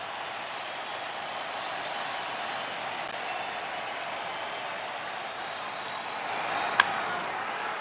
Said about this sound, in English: And the crowd urging on Edgardo Enriquez.